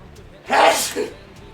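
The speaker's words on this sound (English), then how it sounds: "I'm about to sneeze." A single sharp sneeze bursts out, close and loud, with a short breathy tail after it.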